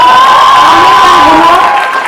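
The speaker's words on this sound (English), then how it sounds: "give it a big round of applause" A college audience cheers and applauds guests on stage, a loud, dense roar of crowd noise and shouting close by, holding steady throughout.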